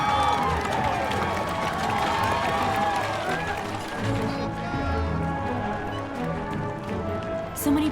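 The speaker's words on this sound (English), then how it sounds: "Then we heard the cheering." A large crowd cheers and claps in a continuous, busy roar of voices and hands, with hoof-like tapping and scattered shouts, fading somewhat toward the end.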